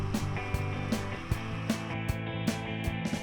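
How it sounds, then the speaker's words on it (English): A bandsaw running steadily with a constant motor hum while the back of the blade shapes a metal bottle-opener collar stay, with faint periodic ticks as the piece is fed, close up and with no talking. "Here I'm using the back of the blade to cut and shape the opener portion of the metal to an almost finished shape."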